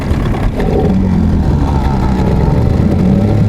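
A Tohatsu 9.8 outboard motor runs steadily on a Flagman 330U inflatable boat, a close, loud, even mid-pitched engine drone with no talk.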